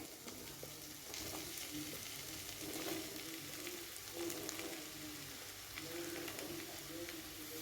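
Mushrooms, about 200 grams, sautéing in oil with ginger garlic paste for a mushroom pulao, giving a quiet steady sizzle with faint stirring scrapes throughout.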